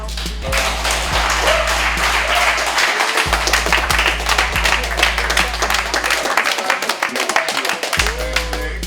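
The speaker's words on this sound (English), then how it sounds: "Everybody, big round of applause for Master Renato." A seminar audience applauds at a martial arts gym: brisk clapping runs throughout, with a strong low hum that cuts in and out beneath it.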